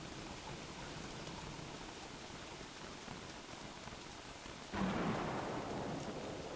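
Steady rain during a thunderstorm in the video game Don't Starve, with a sudden loud thunder crack near the end over the constant downpour.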